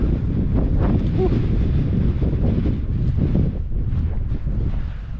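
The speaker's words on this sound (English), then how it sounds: "You can see how crazy this wind gets." Strong wind blowing on a hillside in Mongolia in early spring, loud continuous roaring and buffeting against the microphone, sustained throughout with slight easing at the end.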